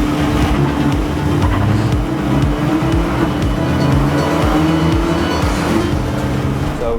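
A race car engine drones loudly and continuously from inside the car at Indianapolis Motor Speedway during a Michelin Pilot Challenge race, a steady, dense roar with a buzzing tone and no pauses.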